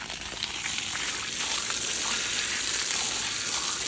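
Water splashed and poured onto a face during washing, a steady, loud, close rush of spattering water that runs for the whole stretch without letting up.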